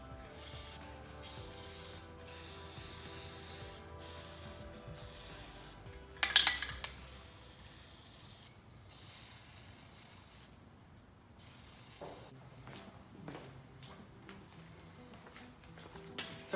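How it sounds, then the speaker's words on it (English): Fluid Film lubricant sprayed from a can onto Jeep wheel stud threads during a wheel spacer install, one short close hiss burst amid quiet shop sounds and light metallic handling. "I like to lube my threads with some fluid film"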